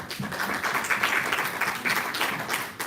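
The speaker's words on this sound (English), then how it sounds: "I think we can really applaud all." An audience at a tech talk on additive manufacturing claps briefly, a moderate, slightly uneven patter of hands lasting under three seconds.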